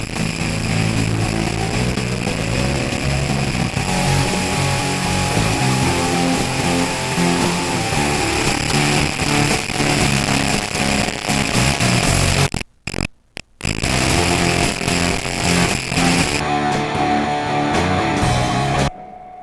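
A dense, steady wash of amplified noise-floor hiss and hum fills the clip, with a harsh buzzy texture, briefly cutting out near the end before resuming.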